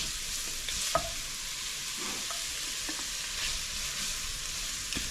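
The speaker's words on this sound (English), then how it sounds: "sweat the onions down" Onions sweat in a hot pan alongside sun-dried tomatoes, giving a steady, even sizzle throughout with a few light clicks of stirring.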